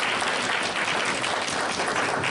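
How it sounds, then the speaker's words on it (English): A dinner audience at a UNC-Chapel Hill Black alumni event gives a sustained round of applause, dense, steady clapping from many hands with no voices standing out. "we need to give Mr. Jackson a nice round of applause"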